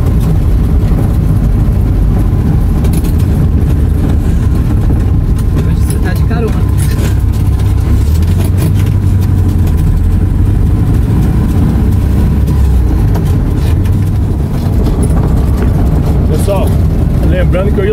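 A Volkswagen Beetle (Fusca) drives along a road near Londrina, Paraná, with its engine giving a loud, steady, low rumble and constant road and wind noise throughout. Voices are faintly mixed in.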